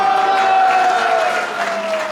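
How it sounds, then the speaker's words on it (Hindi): Audience applause at a Srimad Bhagavad Katha in a Satyanarayan temple in Jalandhar, loud continuous clapping from a crowd that tapers slightly near the end, with a sustained tone beneath. "तालियां इधर वाले बजा रहे"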